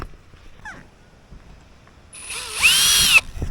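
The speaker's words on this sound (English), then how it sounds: "this hole we need to just put a little screw in as well" A power drill driving a small screw into the skeg of a Mirror dinghy, a short rising whir lasting about a second after a quiet pause, close and fairly loud, with no talk.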